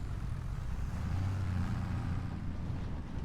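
Tractor engine in the farming and logging video game Riverbend Springs, a low, steady rumbling drone at fairly quiet level, running alone without talk.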